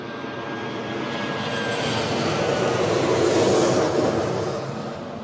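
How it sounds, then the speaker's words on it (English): Eastern Airways Embraer 190 jet on final approach, a broad engine roar swelling as the aircraft nears, peaking loudly near the end and then easing, no talk. "Eastern Airways inbound from Amsterdam, an Embraer 190."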